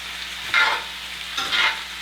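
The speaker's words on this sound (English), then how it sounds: "So much sizzling, it's getting loud in here." Turkey breast sizzles and hisses in a pan, with two louder bursts of frying as it's stirred, no voices.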